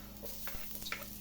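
Ginger sizzles in hot oil in a frying pan, a faint, steady crackle with a few soft stirring clicks close by, and no talking.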